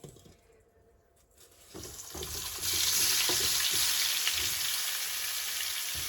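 Bacon and sausage browning in a pan for a potato casserole, a quiet start swelling into loud, steady sizzling and crackling that holds for several seconds with no talk.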